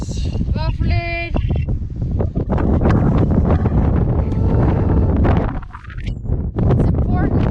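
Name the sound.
wind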